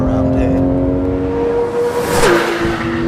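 A Porsche 911 GT3 with a 475-horsepower engine revving to 9,000 rpm holds a loud, sustained high-pitched wail close by, its tone climbing and then dropping sharply as it shifts gear.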